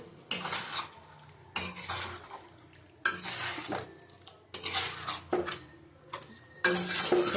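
Chicken chaap is mixed in a pan, a spatula scraping and clanking against the metal in repeated bursts over a faint sizzle, close by.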